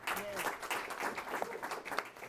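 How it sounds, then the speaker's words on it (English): Steady applause from an audience at an investor pitch event, a brief dense patter of clapping throughout, with faint voices mixed in. "Applause."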